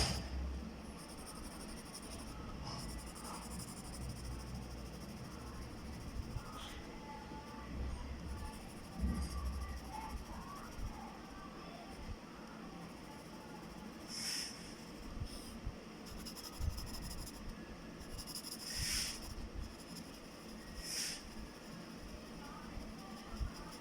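A pencil shades a drawing of a bench vice with a steady, soft scratchy rubbing that continues throughout, faint and close, over a low background hum.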